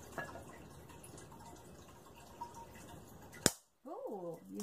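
Cooled caramelized sugar for leche flan gives a single sharp crack near the end of a quiet, close stretch of faint kitchen background, and a voice follows right after it.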